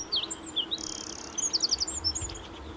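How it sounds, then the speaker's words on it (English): Wrens sing loudly from perches near their burrows, a rapid high trilling and chirping run of notes, close and clear over a steady outdoor background hiss. "The normally shy wrens seem to pop up everywhere, singing as loudly as they possibly can."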